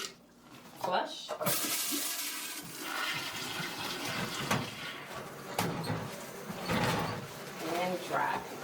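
A toilet flushes in a care-facility bathroom after a basin is emptied and rinsed, a close rushing surge of water that rises, churns and drains over several seconds, with a few sharp knocks and clatters around it.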